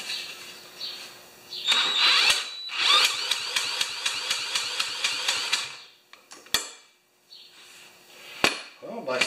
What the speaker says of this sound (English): I'm just gonna turn it over with this drill for a bit